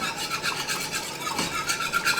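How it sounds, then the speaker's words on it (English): A whisk scraping rhythmically through vegan gravy mixture and water in a saucepan on medium heat, making quick, close rasping strokes without any voices. "whisk it up"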